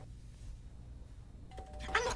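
A doorbell in a Tagalog-dubbed TV drama chimes once, a bright electronic tone ringing out after a stretch of quiet room noise, heard from indoors at moderate volume.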